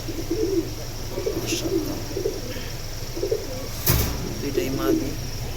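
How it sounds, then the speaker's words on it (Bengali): Two female aluminium pigeons coo in soft repeated low phrases under steady background noise, with people talking nearby. "এই দুইটা অ্যালুমিনিয়াম কবুতর আছে"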